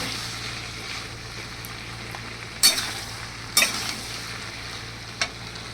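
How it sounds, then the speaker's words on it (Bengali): Spice masala for ghugni is stirred and fried in a pan, a continuous low sizzle with scraping strokes of the spoon and a few sharper knocks against the pan, close and with no talking. "এখন মশলাটা কষানো হয়ে গেছে, কারণ এখন আর নাড়া ধরতে পারছি না, নিচে লেগে যাচ্ছে"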